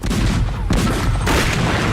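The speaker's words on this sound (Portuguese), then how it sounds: "Beleza, vamos disparar o canhão." A cannon fires in booming bursts, heavy low rumbles that swell and fade twice in quick succession, loud and close.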